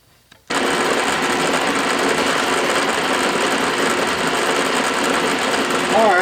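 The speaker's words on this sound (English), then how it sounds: "I like the way that lead machines. It reminds me of turning Delrin." A metal lathe starts up and turns a soft lead flywheel casting, and a steady, loud mechanical whir with a fine cutting hiss then runs without a break.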